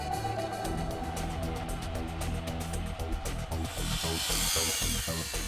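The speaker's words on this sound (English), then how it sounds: "Machining the steel edges is the first step in preparation for the welding process." A machine mills the steel edges of district heating pipes ahead of welding, producing a loud, continuous grinding whir with a rapid rhythmic chatter that grows harsher and hissier toward the end.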